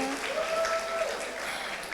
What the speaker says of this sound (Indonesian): Tepuk tangan buat Ibu Iva.